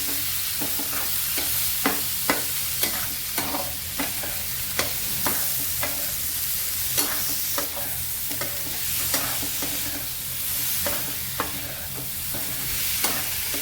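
Paneer and vegetables coated in masala being stirred in a pan, a continuous sizzle punctuated by regular spoon scrapes and clicks against the metal, close and fairly loud, with no voices.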